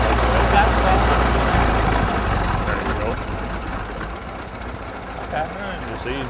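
A tractor engine runs steadily with a little throttle applied, a low continuous rumble that eases slightly over time while people talk nearby.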